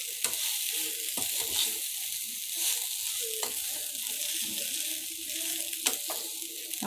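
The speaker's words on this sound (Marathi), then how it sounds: "आणि हा हे व्यवस्थित मस्तसं परतून घेऊ" Leftover rice sautéed in a pan for masala rice, a steady hiss of frying broken by occasional sharp scraping and tapping strokes of a spatula, close and moderately quiet.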